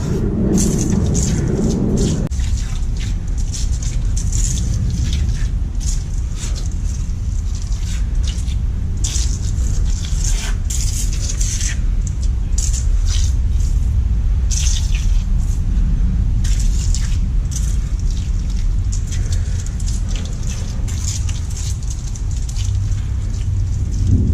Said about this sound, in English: As you can tell, I got rain coming